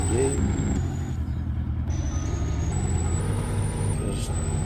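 A Farming Simulator 19 truck engine drones loudly and steadily with a low rumbling hum, while a person talks over it throughout.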